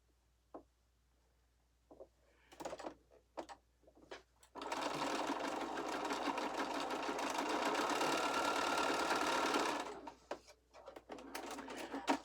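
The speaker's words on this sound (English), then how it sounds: "we'll flip it up and we'll stitch right down that edge" A sewing machine stitches quilt fabric down an edge in one steady, continuous run of about five seconds. Scattered clicks and handling taps come before it, and a few more follow after it stops.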